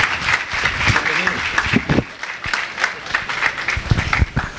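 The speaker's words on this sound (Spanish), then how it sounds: "Démosle un fuerte aplauso" A conference audience at a software engineering talk claps for the speaker, with a fairly loud, uneven patter of hands and crowd noise mixed with some voices.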